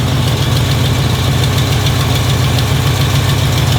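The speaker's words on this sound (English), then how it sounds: "I think it might have a little manifold gasket leak in the back." A Chevy El Camino engine idles loud and close in a steady, unbroken rumble with a faint rapid ticking that may come from a manifold gasket leak, and no one speaks.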